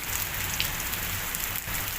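Heavy rain pours down in a storm in Saudi Arabia, a loud, dense and steady hiss of water drumming on surfaces with no break across the short stretch.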